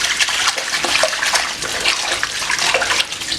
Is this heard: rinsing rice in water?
yes